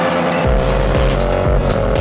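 Honda CRF250L motorcycles ride around a parking lot, engines loud and close, revving in repeated rising sweeps as the bikes accelerate and shift.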